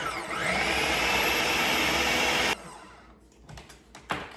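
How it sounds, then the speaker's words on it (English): A food processor runs on its high-speed chop setting, giving a loud, steady whirring roar for about two and a half seconds. It cuts off abruptly and is followed by a few light clicks and knocks. "Let's get it turned on, chop it, and I want to put it on high."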